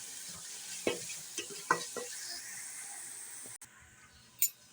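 Cumin seeds roast in a pan, a soft constant hiss broken by a few light taps and scrapes of a spoon, faint and close.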